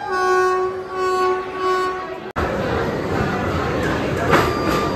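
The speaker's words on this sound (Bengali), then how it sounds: "ফাইনালি আমাদের ট্রেন বন্দে ভারত এক্সপ্রেস 2 নম্বর প্ল্যাটফর্মে আসছে" A Vande Bharat Express pulls into platform 2, first sounding a long sustained multi-tone horn, then an abrupt cut to the broad, loud rumble and rushing of the arriving train filling the station.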